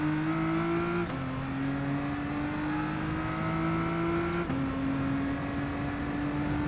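Race car in the GT Sport video game pulling hard through the gears, a loud engine tone climbing steadily in pitch, dropping sharply at two gear shifts and climbing again, with no talk.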